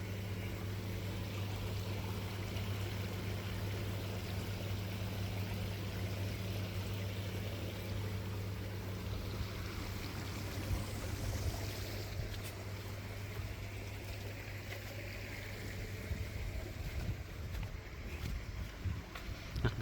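Water flows steadily through a garden pond, fed by a bottom drain, an air bar and a shower, giving a constant broadband rush over a low steady hum, with a few louder splashes or footsteps near the end.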